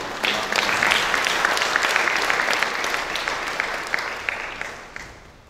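A church congregation at a funeral service claps together, a dense wash of applause that holds steady for a few seconds and then tapers off.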